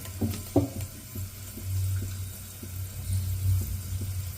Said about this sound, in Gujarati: હવે એમાં આપણે થોડાક મેથીના દાણા એડ કરશું।